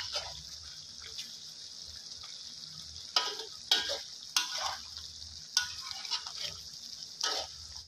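Water poured in small additions into a pan of spicy chicken curry with pickled bamboo shoots, bringing repeated bursts of sizzling and bubbling between stirring over a steady frying hiss.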